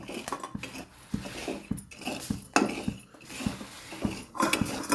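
Chickpeas (futane) are roasted in a hot kadhai and stirred with a utensil, giving repeated metallic scrapes and clinks at an irregular rhythm, close and moderately quiet, with rattling grains between strokes.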